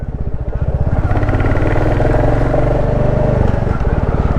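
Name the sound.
motorcycle downshifting from second to first gear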